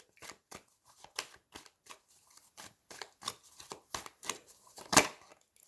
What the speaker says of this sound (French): j'ai la moitié des cartes qui s'est retournée là